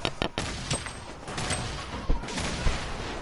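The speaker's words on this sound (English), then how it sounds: "they're launching grenades" Grenades launch and burst in a PS4 combat video game, with a dense, close barrage of booms and cracks crowding a few seconds and no clear break between blasts.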